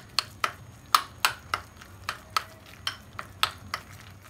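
Spoon or whisk knocking rhythmically in a bowl as red chilli powder and garam masala are stirred into Burmese pyajo batter, about ten sharp close taps with a soft scraping bed between them, no voices.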